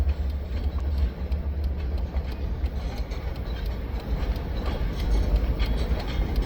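A mile-long freight train hauled by three locomotives rumbles past close by, a steady loud roar of engines and rocking rail cars with faint rhythmic clicks, running continuously with no talk.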